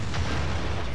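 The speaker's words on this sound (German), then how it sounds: "Ach, ist das herrlich, wie schön die doch explodieren, die Jungs." A grenade explosion in the video game Beyond Good & Evil, heard as a short, loud, dense boom that fills the whole moment.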